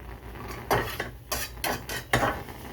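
Onions go into a pan to start sautéing for vegan egg foo young, bringing a few sharp clanks and scrapes of utensil against pan over a low background, with no one speaking.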